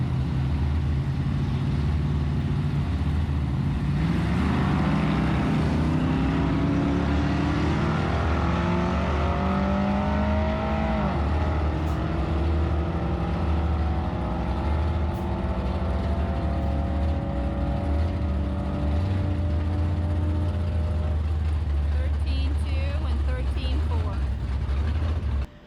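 A twin-turbo GMC truck and a Cadillac CTS-V drag race down a strip, engines roaring loudly as they accelerate through the gears with rising, shifting pitch over continuous crowd and track noise.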